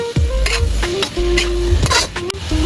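Buko sautéed with garlic, chili, ginger and onion while being stirred: a steady sizzle with scraping utensil strokes at an uneven rhythm, close and loud.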